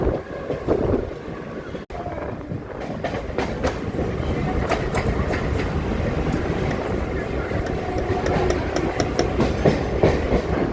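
Mumbai slow local train running from CSMT toward Vashi, a loud continuous rumble with rapid clickety-clack of wheels and wind noise, recorded from inside a crowded carriage with voices mixed in.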